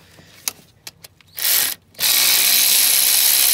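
A ratchet wrench works a 5 mm bolt during alternator replacement on a Chevy Equinox: a few sharp clicks, a brief burst of fast ratcheting, a pause, then a sustained loud whirring run, close up and without speech.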